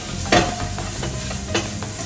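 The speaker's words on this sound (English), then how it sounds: "And mix that all up together." Ground cumin being stirred into beef stew ingredients for Peruvian guiso de carne, a couple of spoon scrapes against the pot over a faint steady sizzle, close and brief, without speech.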